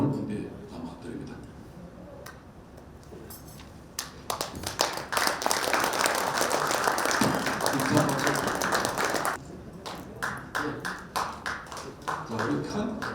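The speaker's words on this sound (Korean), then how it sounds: "자, 우리 큰 힘찬 박수" At a Masan Yongma High School centenary report event, an assembly claps for the contributors to the hundred-year history book. The clapping starts scattered, swells into a loud sustained round with voices mixed in, then thins to a few claps again.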